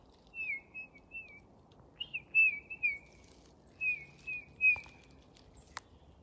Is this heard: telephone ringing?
no